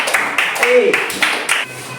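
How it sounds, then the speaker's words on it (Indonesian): Applause for student groups one to four in a classroom, a burst of clapping from several people under a speaking voice, fairly close and steady for about two seconds. "Oke, tepuk tangan untuk kelompok 1, 2, 3, dan 4"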